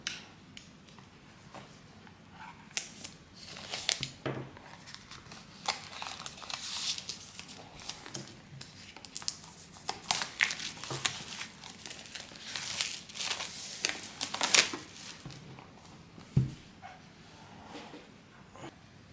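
Plastic wrap and paper packaging on a new tarot card deck being crinkled and torn open up close, irregular rustling bursts with quiet pauses between them, no speech.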